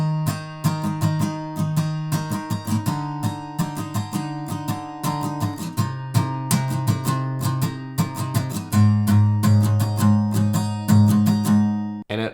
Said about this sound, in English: So we're going to play that strumming pattern for all the shapes and the verse sounds like this.